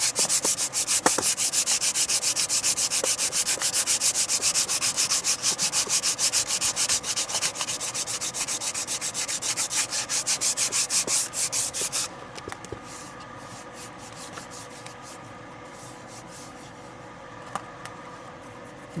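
Steady, rhythmic rasping of sandpaper rubbing back and forth over a wooden axe handle, loud and close, stopping abruptly partway through and leaving quiet scattered scrapes.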